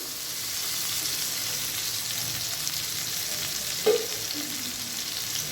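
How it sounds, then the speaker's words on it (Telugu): Thinly cut tomato pieces fry in oil in a pan with a soft, even sizzle that holds steady throughout, broken by one brief knock near the end. "ఈ టమాటా ముక్కలు కూడా ఈ ఆయిల్లో బాగా మగ్గనిచ్చేసిన తర్వాత"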